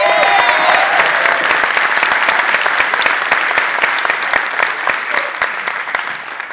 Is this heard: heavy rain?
no